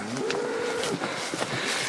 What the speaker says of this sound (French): Et les vaches aussi, je les entends.